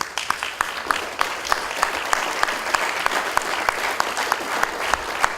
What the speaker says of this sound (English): I ask for a big round of applause for all of you and all of them